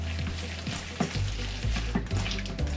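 A meatloaf mixture of raw ground meat worked by hand in a bowl, giving a steady, close, wet squelching and rustling with a few soft squishy bumps, no talking.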